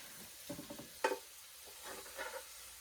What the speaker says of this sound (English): Let's stir this around and it's done.